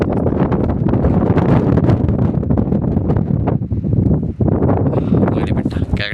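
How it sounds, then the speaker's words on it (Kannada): Strong wind buffets a microphone on a hilltop at Mandaragiri, a loud continuous roaring rumble with no other sound standing out. "ಯಾಕೋ ಗಾಳಿ ಬೀಸ್ಬೇಕು."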